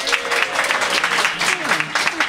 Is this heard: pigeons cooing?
no